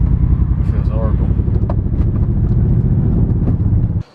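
A Mercedes C63 V8 with a misfiring engine while driving, a loud rough low rumble under the cabin that cuts off abruptly at the end, with a voice speaking over it.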